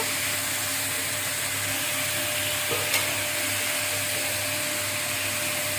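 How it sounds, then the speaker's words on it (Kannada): Pumpkin palya stirred in a pan over a low flame, a steady soft sizzling hiss with faint scraping throughout and one small knock near the middle, no voices. "ಕಡಿಮೆ ಉರಿಯಲ್ಲಿ ನೀಟಾಗಿ ಸೇರಿಸಿಕೊಳ್ಳೋಣ."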